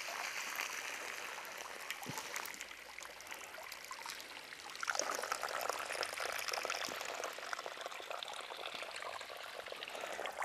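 Water pours through soil in an erosion demonstration, a soft continuous trickling stream that swells slightly midway, faint and steady without talk.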